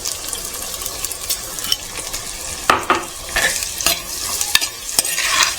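Onions and green chillies sauté in hot oil with a steady loud sizzle, while a utensil repeatedly scrapes and stirs through the pan, producing irregular clicks and knocks over the frying hiss.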